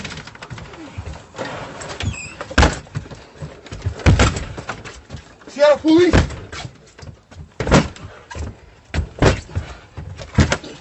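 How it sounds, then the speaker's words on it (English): Heavy, repeated banging hits a front door in loud irregular bursts, while someone shouts and people talk over the thuds. "you hear banging on your front door"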